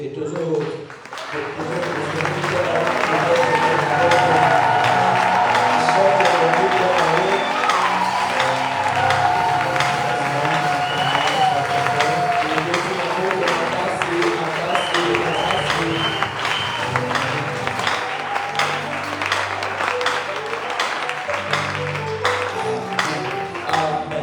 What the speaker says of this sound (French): Et nous lui devons les acclamations.